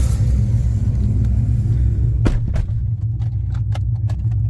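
Chevrolet Corvette C7 Z06 heard from inside while riding on a street, a steady loud low engine rumble with a few sharp clicks and rattles near the end.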